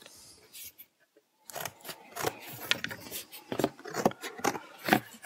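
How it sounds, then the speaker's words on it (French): Scissors snip through small squares of thick cardboard in a run of short crisp cuts and rasping rubs at close range, following a brief quiet start. "je découpe mes petits carrés de carton"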